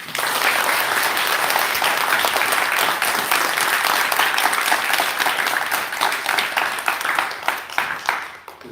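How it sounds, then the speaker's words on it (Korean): Warm applause from the congregation thanking the brothers and helpers at the end of a July Salesian youth Mass, steady dense clapping filling the room before tapering off near the end. "형제자매들 그리고 수사님들에게 감사의 박수를 보내드립니다."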